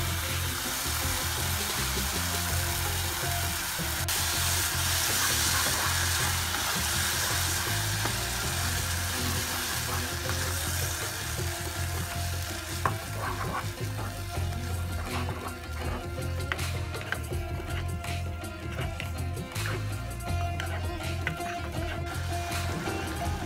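Pureed tomatoes sizzle in a pan on a low-medium flame for dal makhani, a steady hiss of frying that continues throughout, with brief stirring clatters breaking in toward the end.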